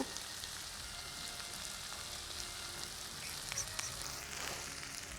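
Ground coconut, cashew and chili paste hitting a hot pan with onion, a steady close sizzle and crackle with a few spatula scrapes and clicks, no voices.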